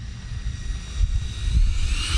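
A Freewing F-15 90mm RC jet plane flies with a loud, steady ducted-fan whine and rumble that swells as it passes close, with no talking.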